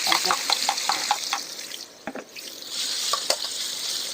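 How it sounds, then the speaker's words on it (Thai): Pounded chili tipped into hot oil in a wok for a Thai stir-fried chicken giblet and basil dish, giving a loud close sizzle with stirring clatter and a few scraping strokes. "ใส่พริกที่เราตำไว้ ใส่ลงไปเลย"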